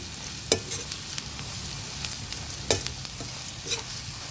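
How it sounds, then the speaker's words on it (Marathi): Turmeric and homemade garam masala sautéing in hot oil for a wild shevala vegetable dish: a low, steady sizzle with occasional sharp scrapes and taps of a spoon stirring the pan, no voices. "आता हळद आणि मसाला तेलावर छान परतून घ्यायचा आहे"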